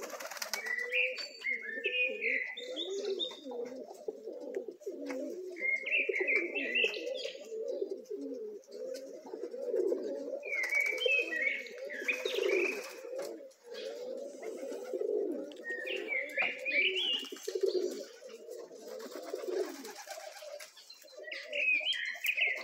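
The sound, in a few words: pigeons cooing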